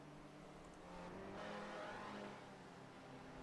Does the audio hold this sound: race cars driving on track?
yes